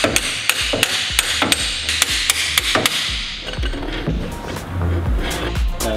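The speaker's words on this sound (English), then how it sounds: "I'll get a hammer." A hammer strikes a car's starter motor repeatedly in quick, forceful blows, about a dozen sharp metallic whacks over a rumbling engine-like background, then the blows stop and the rumble continues.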